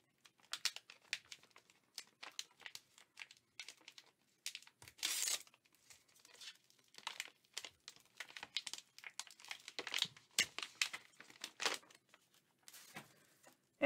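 New packaging on basketball trading card boxes crinkles and tears in close, irregular bursts with brief pauses, quiet and handled alone without talk.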